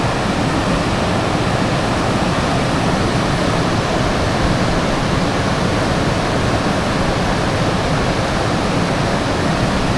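Water thunders steadily down a waterfall at Bhim Kund in Keonjhar, a loud, unbroken rushing roar that fills the whole stretch with no pauses and no voices.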